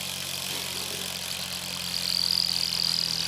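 A small Nano Flux twin acoustic model engine runs steadily, a soft continuous whirring hum with a thin high whine rising near the end, heard close and alone.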